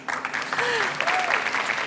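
An audience applauds continuously at a stage celebration of a singer's 25 years in performance, with the clapping dense and steady throughout and a few rising and falling whistles cutting across it.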